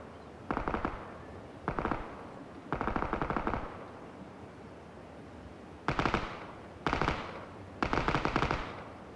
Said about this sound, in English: let's go ahead and listen to what this weapon sounds like at range